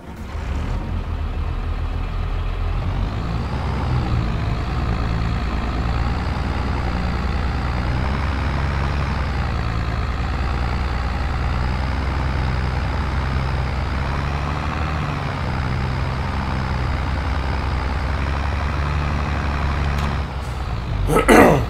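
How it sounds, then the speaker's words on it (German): Steady drone of a Volvo truck engine in the farming game Farming Simulator 22, a loud, even diesel hum that holds constant for about twenty seconds, with a short rise and clatter at the end. "Natürlich müsst ihr bedenken, auch der Sound von dem Volvo"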